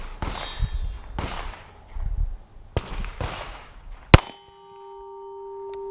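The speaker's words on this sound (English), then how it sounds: "So the gun will cycle, but no bullet will go into the chamber." A handgun with its magazine out and no round chambered is cycled by hand: a series of close, sharp metallic clacks, then one loud clank that leaves a brief ringing tone.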